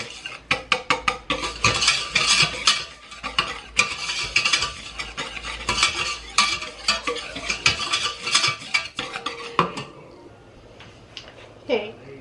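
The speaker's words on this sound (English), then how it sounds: "3 tablespoons of flour, and we're going to whisk this all together." A whisk scrapes and clatters in a pan as flour is beaten into a mixture of sugar, with fast metallic strokes in uneven bursts under a person talking, fading near the end.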